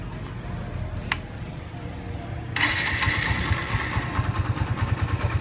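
A Kawasaki W175 motorcycle cranks briefly and catches, its engine then settling into a steady, even idle with a regular pulsing thump, close and clear after a quiet start with a faint click.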